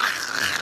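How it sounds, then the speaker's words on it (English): A dog growls and snarls in a short, close burst, loud and alone with no talk over it. "There's a dog."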